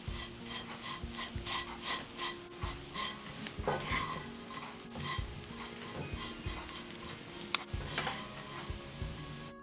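Chopped kunafa dough roasts in a pan while a utensil stirs and scrapes it, giving repeated rasping strokes over a soft, steady sizzle, heard close up with no talk.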